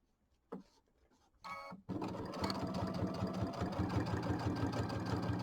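A sewing machine stitches quilt pieces together. After a few short starts it runs in a steady, close mechanical whir of rapid needle strokes that fills the rest of the moment, with no voices.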